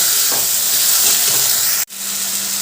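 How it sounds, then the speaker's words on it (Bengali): Fried potatoes stir-fried with spices in hot oil for a vegetarian dish, giving a loud continuous sizzle with a brief stir, then a sudden cut and a quieter steady hiss. "আলুগুলো দিয়ে আবারও ভালো করে মশলার সাথে কষিয়ে নেব"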